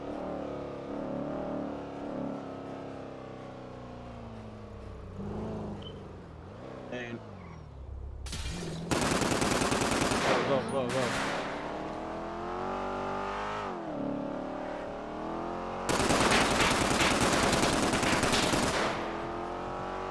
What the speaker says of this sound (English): That shit shooting the windows out this bitch.